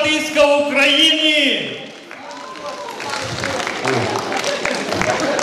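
Concert audience in Truskavets breaks into loud, sustained applause as an announcer's voice rings out over the start before fading beneath the clapping.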